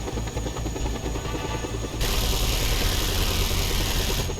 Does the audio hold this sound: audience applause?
no